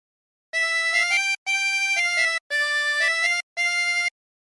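A harmonica plays the opening phrase of a song as four clear sustained blown and drawn notes with brief gaps between them, close and alone.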